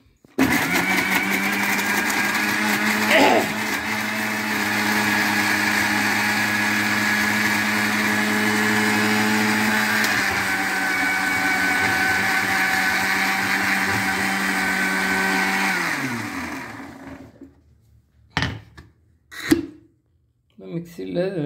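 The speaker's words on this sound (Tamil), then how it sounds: "3 தக்காளி, 7 பச்சை மிளகா, இது எல்லாத்தையுமே போட்டு மிக்சியில் அரைங்கும்." Kitchen mixer grinder blending three tomatoes and seven green chillies, a loud, steady whirring drone that runs for about sixteen seconds before winding down, followed by a few clunks and knocks from the jar.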